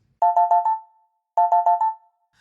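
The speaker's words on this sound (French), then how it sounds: "je reçois un coup de téléphone des plus étranges" A phone ringtone for an incoming call plays two bursts of four quick electronic tones each, clean and loud, separated by a short silence.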